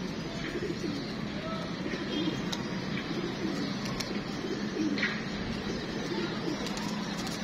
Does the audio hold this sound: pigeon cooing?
yes